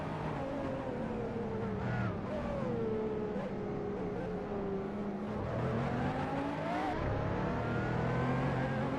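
Supercars racing at Long Beach, engines revving and roaring continuously close by with shifting pitch as cars accelerate and pass, a steady loud motor drone throughout.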